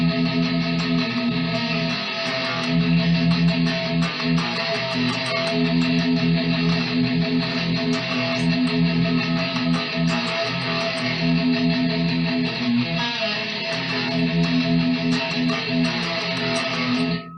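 Distorted electric guitar riff played with down picks at a slowed, halftime feel, a loud, dense, continuous chugging tone throughout with no talking.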